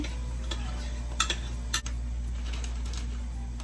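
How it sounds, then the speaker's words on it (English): A spoon scrapes and taps against a pot of queso on low heat, giving a few sharp clinks and knocks over a steady background hum, with no talking. "I'm gonna go ahead and grab a spoon and stir up the queso"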